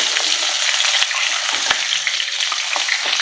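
Hilsa fish frying in a pan of hot oil, a steady close bubbling sizzle with occasional sharper pops and stirring scrapes, continuous throughout.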